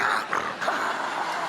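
A dog in a residential colony gives a short burst of vocalizing, growly and close, with no clear separate barks standing out.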